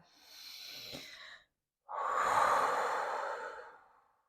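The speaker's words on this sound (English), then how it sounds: "Let's take one big breath" Two deep breaths during a bedtime yoga session, a gentle inhale followed by a pause and then a longer, louder exhale sigh, close and alone.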